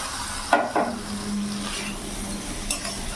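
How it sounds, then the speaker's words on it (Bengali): Fried eggplant being stirred into a spiced silver carp curry in a pan over a full gas flame, with a couple of sharp utensil scrapes and knocks over a steady low sizzle. "এবার ভালো করে নাড়াচাড়া করে নেব যাতে বেগুনের সাথে ভালো করে মশলাটা মিশিয়ে যায়।"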